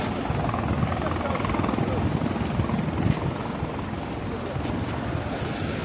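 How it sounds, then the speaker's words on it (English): A helicopter passes over New York City near the waterfront, making a steady, rumbling, broadband drone that echoes off buildings, with wind and distant surf mixed in. "the helicopter's in front of us the whole time"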